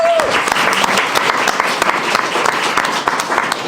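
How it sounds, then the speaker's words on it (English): Audience applause at a city council meeting, steady dense clapping filling the room for the whole stretch, loud and close, with a brief voice at the start. "big round of applause to Johnny"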